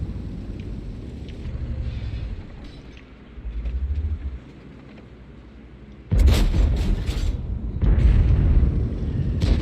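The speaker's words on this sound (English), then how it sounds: "Shooting that debris away, by the way." Tank cannon fire in the World of Tanks video game, blasting debris away: a sudden loud boom with crashing debris, a second heavy blast shortly after, over low engine rumble.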